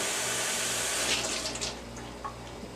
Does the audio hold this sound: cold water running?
yes